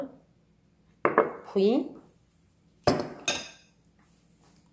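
Spoon scraping and clinking against a ramekin while cooled caramelised apples are scooped in, a few short, sharp hits of metal on ceramic set apart by quiet, with a voice speaking briefly.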